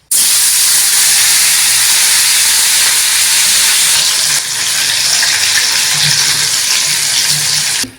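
Washed fish rubbed with salt and turmeric is dropped into hot oil, giving a loud, steady, close hiss and sizzle that runs unbroken throughout.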